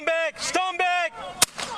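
Police beanbag round fired at an armed man: a single sharp crack cuts through shouted commands near the end.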